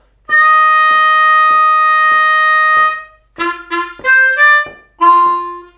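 A harmonica plays a blues lick, opening with one long sustained held note, then several shorter bent and wavering notes, loud and close.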